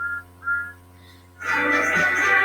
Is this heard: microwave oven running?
no